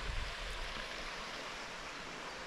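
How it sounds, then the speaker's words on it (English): A stream runs near a riverside campsite, a steady close rushing of water with an even, unbroken texture and a brief low bump at the start. "Running water, fire pit, food, beer, wine."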